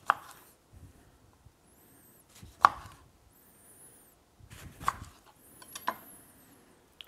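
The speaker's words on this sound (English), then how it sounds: "And now we just split our fruit." A knife slices citrus fruit such as a lemon in half on a board, giving a few crisp, separate cuts with near silence between them.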